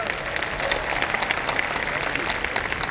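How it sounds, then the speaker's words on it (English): A round of applause from a conference audience in Indonesia, loud continuous clapping with sharp individual claps standing out, lasting the whole stretch. "Give them a round of applause."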